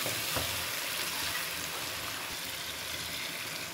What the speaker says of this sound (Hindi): तो इसके साथ ही मैं ये फ्राई करूँगी, फिर नमक अच्छी तरह से चिकन के अंदर जज़ब हो जाएगा